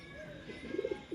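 Soft, low pigeon coos from a healthy pigeon kept for sale among a loft of flying birds, a few throaty pulses rising near the end, fairly close and moderately quiet with no talking.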